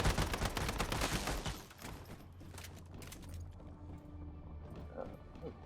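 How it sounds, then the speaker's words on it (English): Gunfire in the Once Human game crackles in a dense burst of rapid shots, loud at first, then dropping to a quieter scene with scattered faint sounds. "I hear you shooting."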